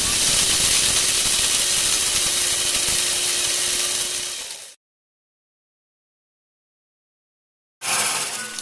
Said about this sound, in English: The next step is grinding the freshly roasted beans.